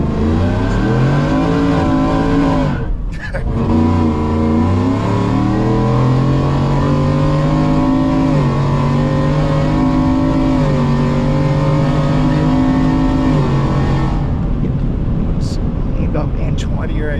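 Slammed supercharged 2023 Ford F-150 4WD truck built by Recoil Racing accelerating hard, the engine note climbing steadily through the gears with a brief dip at a shift, loud and close, with some talk alongside.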